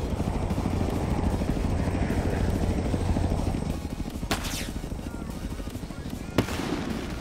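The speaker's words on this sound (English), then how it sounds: "Hey, helicopter." Helicopter rotor in the racing game Forza Horizon 3 at a snowy Blizzard Mountain festival, a steady low chopping drone throughout with two sharp bangs near the end.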